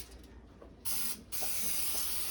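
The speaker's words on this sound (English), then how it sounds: "cooking spray" Cooking spray hisses onto foil-lined baking pans in two bursts, a short spray followed by a pause and then a longer, louder steady spray, close by with no talk.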